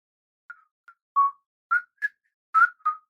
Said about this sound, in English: And there's like little whistles and like bike bells and like a child laughing.